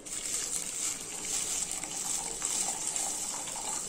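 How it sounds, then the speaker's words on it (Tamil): Tamarind water pours steadily into a pot, a continuous soft splashing gush at moderate volume. "இப்போ புளி தண்ணி ஊற்றிக்கலாம்."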